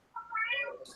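A single drawn-out cat meow, fairly close and clear, rising and falling in pitch over about a second.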